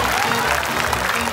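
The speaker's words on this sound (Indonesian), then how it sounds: "Oke, tepuk tangan dulu." Studio audience applause on an Indonesian Family 100 game show, a dense, loud wash of clapping that fills the whole short stretch without a break.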